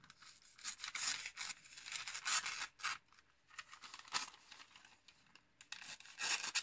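Scissors cut through a sheet of paper in a quick series of crisp snips and rustles, close up and fairly quiet, with brief pauses between cuts.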